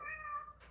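A pet cat gives one clear, close meow with a rising then falling tone, lasting well under a second with no talking over it.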